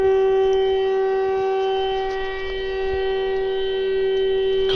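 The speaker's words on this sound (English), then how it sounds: "and the air raid sirens" A steady, loud air raid siren wails continuously at night in Kherson, Ukraine, holding a fixed tone with a slight dip in volume midway.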